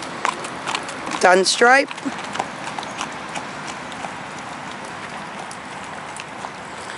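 A buckskin pony gelding walks with soft, irregular hoof clip-clops amid outdoor background noise, and a person speaks briefly early on.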